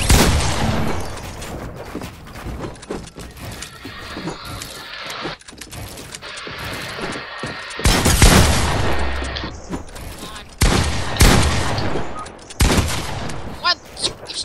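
Rapid bursts of gunfire from a Fortnite match crack out in loud clusters, with sharp volleys near the middle and end over a busy game soundscape, with talking at points.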